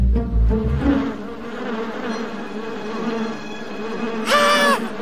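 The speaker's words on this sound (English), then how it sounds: "How could have that huge bee's nest ended up on my front porch?" Cartoon bees swarm around a huge nest on a front porch, making a continuous droning buzz that rises into a higher whine near the end, with no speech.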